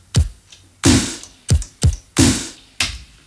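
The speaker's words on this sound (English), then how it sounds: "Here is a pulse track, and here is a very basic 2-drum pattern." A 1984 computer drum sequencer plays a simple two-drum pattern of sharp, punchy hits in an uneven rhythm, about seven hits in three seconds, with alternating thuddy and brighter, noisier strikes.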